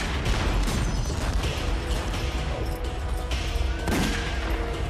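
Arrows and cannon fire are released from the Great Wall in a dense, continuous barrage of booms and cracks, loud throughout the short stretch with no pause.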